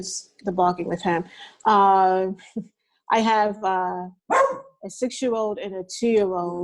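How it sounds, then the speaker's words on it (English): A loud pet dog barking repeatedly indoors, sharp harmonic barks overlapping with conversation from adults nearby. "I'm sorry, my dog is loud,"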